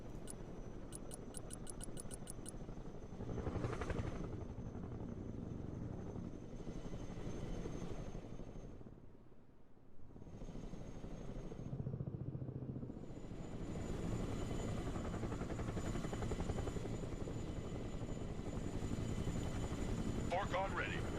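Heavy CH-53 lift helicopter in the real-time strategy game Broken Arrow, a steady low rotor drone running nearly throughout amid other battle noises, with someone talking over it.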